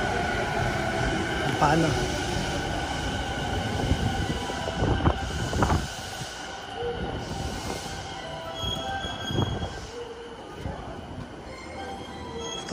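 A Shinkansen bullet train runs on its rails with a continuous rumbling roar and rattling, passing surges and faint wheel squeal, while a voice speaks briefly over the noise.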